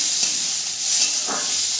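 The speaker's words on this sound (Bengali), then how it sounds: "গোবিন্দভোগ চালটা আমি নেড়ে চেড়ে ভেজে নেব" Gobindobhog rice frying in hot mustard oil in a kadai over a medium flame, a steady close sizzling hiss with faint stirring scrapes throughout, no talk.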